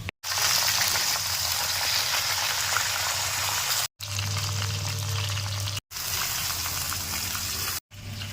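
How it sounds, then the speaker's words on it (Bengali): Sun-dried whole mangoes frying in oil in a kadai give a loud, steady broadband sizzle, close and continuous with a few brief cuts, and no talking. "এই আমগুলো এবার কড়াইয়ে তেলে ভেজে নেব"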